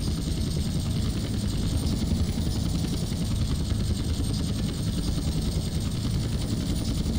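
Helicopter landing in DayZ, a loud continuous rotor whir and turbine drone holding steady throughout, close and unbroken, with no talk over it.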